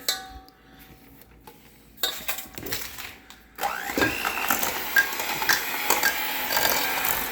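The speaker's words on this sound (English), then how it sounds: "Now we're going to cream the butter and the sugars together" An electric mixer creams softened butter and sugars for homemade chocolate chip cookies. After a few quiet clinks in the kitchen, the motor whirs up loudly and keeps churning steadily to the end.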